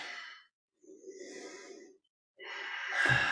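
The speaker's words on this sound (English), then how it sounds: "Breathing." Slow, deliberate breaths during a yoga crescent lunge come close and clear: an exhale, a pause, a soft inhale, then a stronger, sighing exhale that ends with a short catch.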